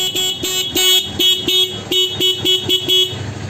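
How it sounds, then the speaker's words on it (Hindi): A motorbike horn, wired through a relay alongside the stock company horn, honks in a rapid series of about ten short loud toots, close up and with no talk. "ये हॉर्न अलग बजेगा, कंपनी वाला हॉर्न अलग बजेगा।"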